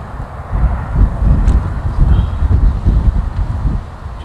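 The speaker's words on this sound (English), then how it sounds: "It's blowing a gale, upstream wind." Strong gale-force wind on the River Ribble buffets the microphone in a continuous low roar with gusting swells, no voices present.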